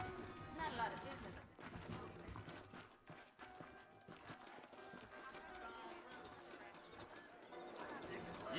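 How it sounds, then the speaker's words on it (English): Horse hooves clip-clop steadily in a Red Dead Redemption game scene, with background music and ambient noise throughout. "got the horses saddled up and ready out front"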